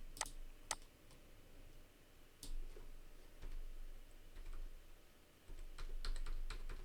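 Computer keyboard being typed on in short irregular bursts of crisp clicks and taps, fairly close and quiet, with pauses between runs of keystrokes and no talking.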